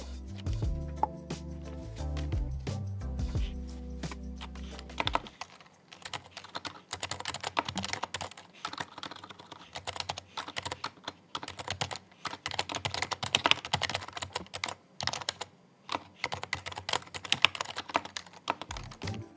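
Fast, continuous keystrokes on an HHKB Professional HYBRID Type-S with blank black keycaps, typed directly on a bare desk with no mat, clattering closely and steadily after a few seconds of tonal background sound.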